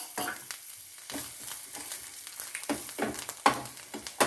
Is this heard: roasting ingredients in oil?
yes